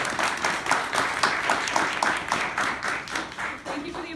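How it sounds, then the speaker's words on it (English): An audience at an outdoor pavilion ribbon-cutting ceremony claps in steady applause that rises and falls in waves over several seconds, fairly near, with no clear talk. "Thank you for the applause."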